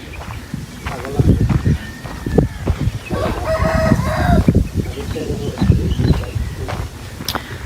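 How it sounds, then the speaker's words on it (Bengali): A Pakistani-breed chicken calls on a farm, with a rooster-like crow rising through the middle of the clip over nearby talking and general farmyard noise. "পাকিস্তানি মুরগি হ্যাঁ এটার শব্দ পাচ্ছি"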